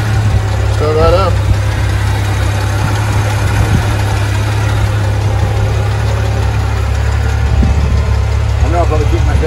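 1981 Jeep Scrambler engine idling just after starting, a steady low rumble held close throughout, with people talking briefly over it.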